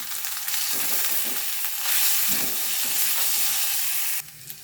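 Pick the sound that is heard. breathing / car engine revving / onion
onion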